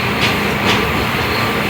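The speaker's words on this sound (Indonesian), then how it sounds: "Ini memang kencang banget nih KRL-nya." KRL Bogor Line commuter train running fast, a loud, continuous rushing rumble of rail travel with a couple of brief swells of wheel noise, heard close and steady throughout.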